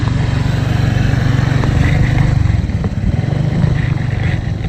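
A small Honda Click-type scooter putters around in slow circles close by as a beginner rider learns, its engine a steady low drone with slight rises and falls and no talking over it.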